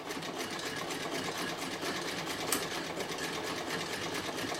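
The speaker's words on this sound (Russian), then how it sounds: "Без напряга прошивает кожу довольно-таки толстую." A Chinese Singer sewing machine stitching thick leather at maximum stitch length runs with a fast, steady mechanical whir and clatter, close and continuous, with one sharper click partway through.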